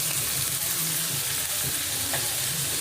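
Steady loud sizzle of ingredients sautéing in a pan for a crab and vegetable dish, continuous frying hiss with faint stirring scrapes throughout.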